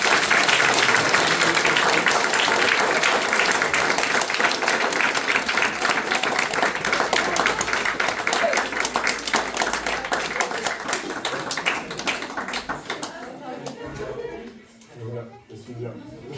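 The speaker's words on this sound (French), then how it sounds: "Donc des applaudissements." Audience applause fills a school theatre after a high-school troupe's performance of A Midsummer Night's Dream, loud sustained clapping that thins out and fades toward the end, with a few voices.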